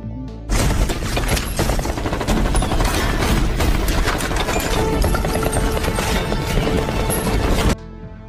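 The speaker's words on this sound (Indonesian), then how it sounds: "Hingga terjadilah baku tembak." Continuous loud gunfire in a film shootout scene, a dense rapid barrage of shots with crashing impacts that runs unbroken for several seconds before cutting off abruptly.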